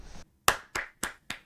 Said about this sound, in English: I give him a clap.